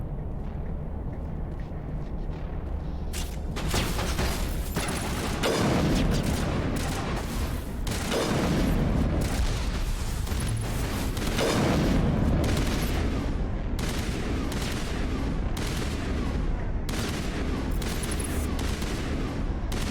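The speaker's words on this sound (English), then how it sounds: "Keep shooting. Keep shooting." Gunfire in the video game Mass Effect during a fight against Geth and a Krogan: dense, loud bursts of rapid shots and booms that start after a short quieter lead-in and keep going almost without pause.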